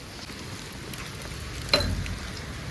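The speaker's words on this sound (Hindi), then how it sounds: "बारिश और भी ज़्यादा तेज़ हो चुकी है" Very heavy rain pours in a dense, steady hiss, close and continuous, with a brief louder splash partway through.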